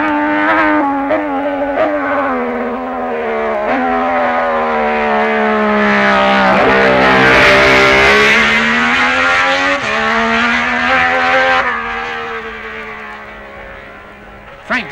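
A racing motorcycle at the 1966 Isle of Man TT roars past, its engine note rising loudly to a peak mid-clip and then fading as it moves away, under a continuous crowd-free ambient backdrop.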